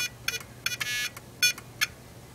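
Keypad beeps as a password is entered on a homemade alarm project: a quick run of short electronic tones, one held slightly longer, then two more spaced presses, close and crisp with no talk.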